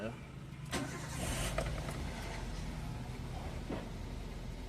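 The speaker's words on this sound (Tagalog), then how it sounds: "pumunta dito sa loob ng sasakyan mo para i-start mo itong makina" A Toyota Avanza engine with a check-engine fault and intermittent misfire cranks and catches, then settles into a low steady idle; a voice talks briefly nearby.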